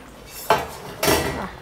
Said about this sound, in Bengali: মাছটা আমার হয়ে গেছে, দেখি ঢাকনাটা খুলে।